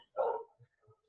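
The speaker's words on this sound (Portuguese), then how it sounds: "em casa é isso, é cachorro latindo." A dog at home gives one short, sharp bark, loud and close, followed by two faint low thuds in an otherwise quiet room.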